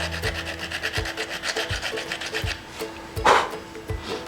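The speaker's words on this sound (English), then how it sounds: "what I use for sandpaper is a piece of a sanding belt" A piece of 80-grit sanding belt is rubbed by hand over wood while shaping 3D gills and fins, giving loud, close, rhythmic rasping strokes, about two per second, with a brief pause near the end.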